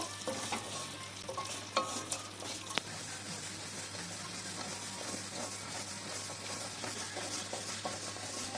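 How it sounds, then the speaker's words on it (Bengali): Mung dal stirred and fried in a kadai with dried red chilies, a quiet steady sizzle broken by a few scraping stirs and a sharp clink early on. "এবার কড়াইতে মুগ ডালটা দিয়ে দিলাম, দিয়ে অল্প কিছুটা নেড়ে নেব"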